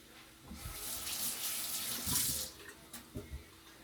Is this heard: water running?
yes